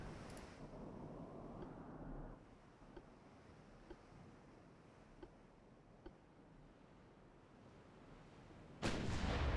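Naval gunfire in Ultimate Admiral: Dreadnoughts, with a loud rumbling broadside that fades, a few faint sharp reports at regular intervals over a steady background hum, then another heavy burst of firing at the end.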